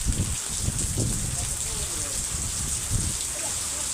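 Rain falling outdoors over a groundnut field, a steady soft hiss of drops with a voice speaking faintly through it.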